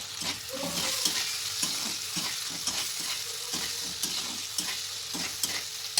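Tomato paste sizzles in a pan while being stirred, a continuous close frying hiss punctuated by regular scraping strokes and light taps of the spoon against the pan, with no voices.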